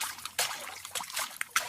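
Water drops landing on a water surface in a scatter of short, separate splashes and trickles, light and fairly close, with irregular gaps between them.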